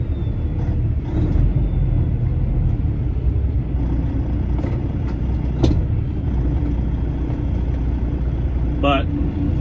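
Cars and other traffic rumble along a busy city road in Atlanta on a Friday night, a steady low drone of passing vehicles with a brief squeal near the end.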